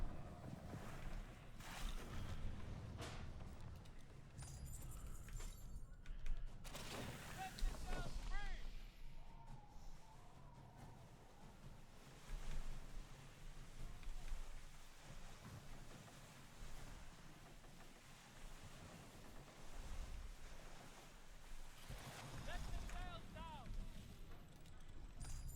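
Sailing ship at sea in the pirate video game Sea of Thieves, with wind and water rushing steadily around the hull, a few louder gusts and thumps, and a player talking intermittently over it.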